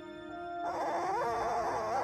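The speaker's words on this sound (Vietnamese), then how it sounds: "Tiếng khóc yếu ớt của nó đã khiến cô gái chú ý" A newborn puppy with maggot-filled wounds, found in a garden, lets out weak, high whimpering cries that begin after a brief quiet moment and continue in a wavering, whining stream.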